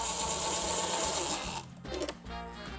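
A power screwdriver whirs steadily as screws are driven into the shroud of a Honda HRN216 lawn mower, a loud continuous buzz that stops partway, followed by brief clicks and a shorter burst of driving.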